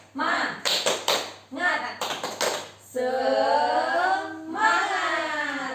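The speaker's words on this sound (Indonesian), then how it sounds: "Oke, kita tepuk semangat dulu ya." Rhythmic group clapping from a room of mothers at a community training session, several quick bursts of claps in a patterned beat, followed by a loud sustained group chant of voices.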